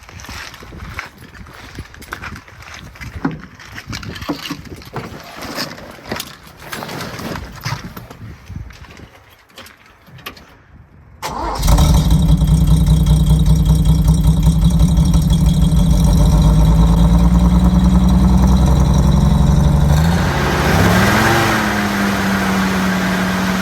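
An old engine is cranked over, fires and then idles steadily and loudly at a railway yard, the start preceded by clattering and fiddling noises.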